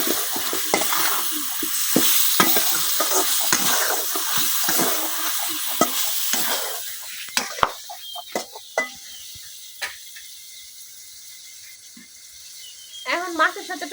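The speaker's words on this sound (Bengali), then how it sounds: "টমেটো আর মাছ আমি কিছুক্ষণ কষায় নিচ্ছি" Stinging catfish (shing fish) sautés with chopped tomatoes and green chilies in a village kitchen pan. A loud, dense sizzle with stirring fills the first half, then it quiets to scattered scrapes and taps.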